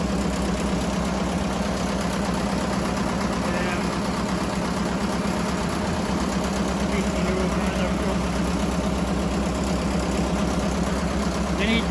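An old Fordson Major tractor engine runs close by in a steady, even low drone with a throbbing mechanical rhythm that holds unchanged throughout.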